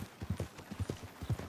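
Horse hooves clip-clop in a steady, even rhythm on the ground in the video game Red Dead Redemption 2, close and moderately loud, with no talk over them.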